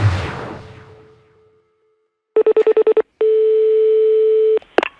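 Telephone dialing from a phone booth: a low tone fades, then a rapid series of about seven evenly spaced dial beeps, followed by a long steady ringing tone and a brief click, with no talking.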